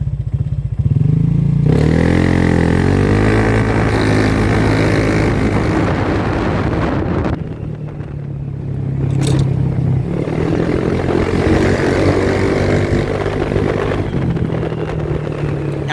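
A stock Honda PCX scooter fitted with an aftermarket box accelerates at about half throttle, its loud engine drone rising and holding with wind and road noise from close by, easing briefly mid-run before rising again.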